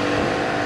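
A Ford Fiesta ST200 fitted with a Milltek exhaust, tuned to 240 hp, gives a loud, dense engine roar through a brief burst, without any clear separate crackle pops.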